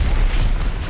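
An enemy bombing explosion in Call of Duty Vanguard rumbles as a heavy, deep, continuous boom, loud and close, lasting about a second.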